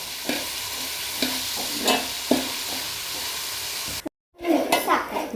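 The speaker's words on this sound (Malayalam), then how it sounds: "കുറച്ച് ഉപ്പ് ചേർത്ത് കൊടുക്കുക എന്നിട്ട് നന്നായിട്ടൊന്ന് ഇളക്കിയെടുക്കുക" Beef with added salt being stirred and fried in a pan, a constant sizzle broken by several distinct scraping spoon strokes, close and fairly loud, with a short silent gap before more stirring.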